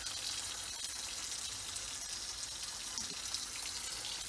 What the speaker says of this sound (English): So next we're just giving the first ones that I've picked a quick rinse through.